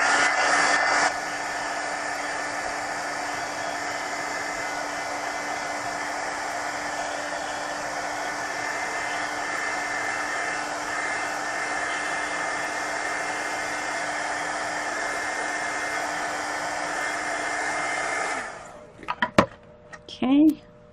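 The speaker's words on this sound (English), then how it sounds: "I'm going to go ahead and hit it with the heat gun before I put that blue on top of the green because it's so wet." A heat gun blows steadily for about eighteen seconds while drying wet paint on a mixed media napkin journal page, then switches off, followed by a few light clicks and taps on the work surface.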